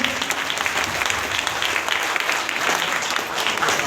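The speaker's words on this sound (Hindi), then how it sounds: "एक जोरदार ताली आप सबों के लिए, नए मेहमान के लिए," Loud, continuous applause from an audience at a DXN business meeting, welcoming first-time guests; a thick, even roar of many hands clapping at once without any speech over it.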